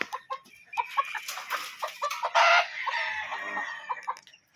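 Chicks cheep in a large flock of a few hundred birds at a poultry farm, a close, busy chorus of overlapping high peeps and clucks with no talking.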